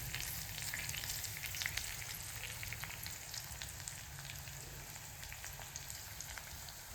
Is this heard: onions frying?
yes